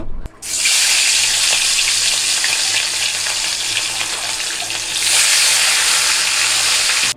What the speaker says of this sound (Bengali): এদিকে আমি তেলাপিয়া মাছটা ভাজতে বসালাম।